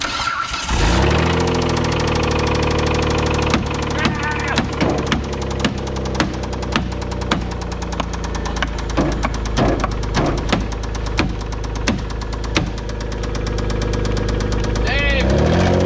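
Worn-out rally car built for a budget endurance race, engine running rough with a heavy rhythmic knock, loud and close throughout, punctuated by sharp clanks, with people talking over it.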